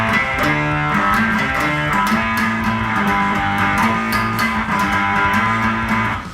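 A Markbass bass synth plays alone, a thick, loud, buzzy bass line of sustained notes that shift pitch steadily with no pauses.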